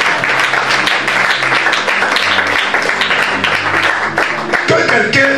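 A church congregation at a Bible study claps and cheers in praise, brisk loud applause with voices mixed in, rising and staying steady before a short shift near the end.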